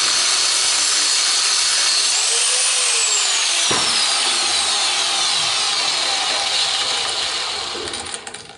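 A power tool cuts small metal plates for railroad switch parts, giving a loud, continuous, harsh grinding roar that holds steady and then trails off at the end.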